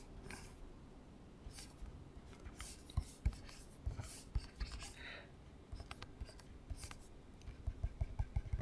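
Hand-drawing a diagram of a specimen with steel caps during an engineering lab lecture, a faint, close scratching of pen strokes with small taps, under quiet low background noise.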